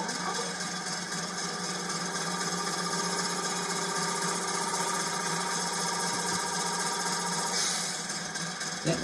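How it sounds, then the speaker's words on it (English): Compressor sound effect from a DCC-equipped Cavalex class 56 model locomotive in DC Rail livery, a steady mechanical whirring chug that runs continuously and fairly loud throughout, with no voices. "So let's try the compressor again on function 11."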